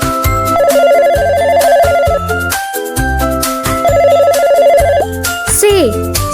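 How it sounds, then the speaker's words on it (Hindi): A telephone bell rings in repeating trilled bursts over a loud musical backing with a bright sweeping tone near the end. "टे, टे से टेलीफोन।"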